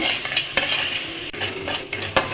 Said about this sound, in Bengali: আমি চিনিটা নাড়াচাড়া করে ক্যারামেল তৈরি করে নেব।